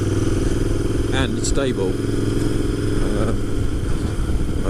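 A Royal Enfield 650 Interceptor runs under a rider's speech, giving a steady, fairly loud engine drone with wind and road noise that continues throughout.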